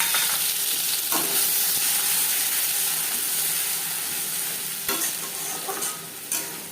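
Cauliflower leaves fried with whole cumin in mustard oil are stirred in a pan, a steady close sizzle with spatula scrapes near the start and again toward the end.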